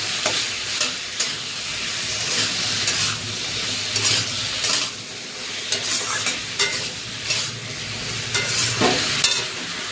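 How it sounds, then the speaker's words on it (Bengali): A ground paste of cumin, coriander, ripe chili and ginger sautés in hot oil for a katla fish curry, sizzling continuously while a spoon stirs and scrapes the pan in repeated, rhythmic strokes close by. "মশলাটা দিয়ে ভালো করে কষিয়ে নেবো।"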